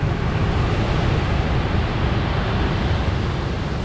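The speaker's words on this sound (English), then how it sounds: "the waves are massive" Massive waves and heavy swell breaking at Ogmore By Sea on the Bristol Channel, a loud continuous rushing surf roar with wind buffeting the microphone, no talking.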